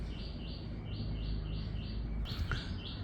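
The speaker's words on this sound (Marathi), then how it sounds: "पक्ष्यांचे आवाज येत आहेत." Birds chirp in short repeated bursts among riverside trees at Pilerne, Goa, a steady rhythm of high calls over a constant low rush, with one sharper call near the end.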